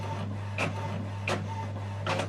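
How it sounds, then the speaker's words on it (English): An HP OfficeJet 8022e printer runs an automatic double-sided job, a steady low motor hum with three rhythmic mechanical swishes of the print carriage and paper feed, close and alone. "So this job is doing it automatically. It's printing on the other side."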